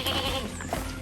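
Goats on a rural farm in St. Andrew, Jamaica, bleat close by as they are fed a pudding whisk, with short wavering cries over a busy background.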